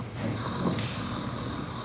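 A person imitates soft snoring with a low, breathy, rasping rumble that holds steady and close, with no other voices.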